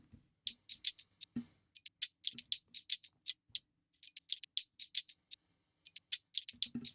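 A shaker loop with a grittier, scratchier texture, crisp rhythmic shakes layered over faint low thumps, repeating in a steady groove.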